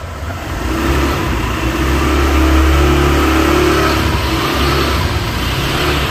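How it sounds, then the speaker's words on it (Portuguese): A motorcycle engine revs up loudly nearby and keeps droning as it pulls away, no talking. "Aí, ó, o Luan saindo com a moto."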